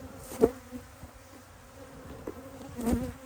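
Honeybees buzz steadily around an open hive during an October colony inspection, a close, continuous hum with a few louder passes near the microphone and occasional soft clicks from handling hive frames.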